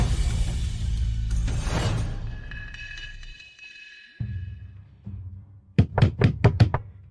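A series of about five sharp knocks on a door, quick and close, coming after a quieter stretch of muffled movement, with no talk over them.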